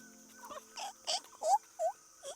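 A series of short, squeaky monkey chirping calls, about six in a loose rhythm, fairly faint against a steady background hum, in Ban Pa Miang, Lampang, Thailand.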